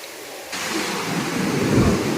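Big sea waves crash and roar onto a beach, a dense broadband rumble that swells suddenly after a quiet start and keeps surging loud and close.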